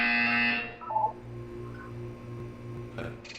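A buzzer in the Aperture Science wellness exercise from a video game sounds in short electronic tones, a loud buzzy burst at the start followed by a brief lower two-note chime and a short high tone near the end.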